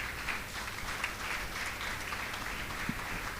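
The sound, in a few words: audience applause at a conference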